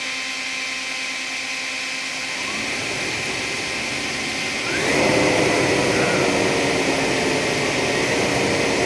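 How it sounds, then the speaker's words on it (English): An electric vehicle's DC motor revs up in neutral with a rising mechanical whine. The pitch climbs over several seconds and surges louder and rougher near the midpoint before holding a steady, close hum. "let's see if we can hear the motor noise"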